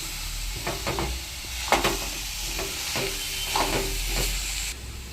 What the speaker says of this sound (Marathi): आता आपण त्याच्यामध्ये ही भाजी घालून घ्यायची, व्यवस्थित परतवून घ्यायची आहे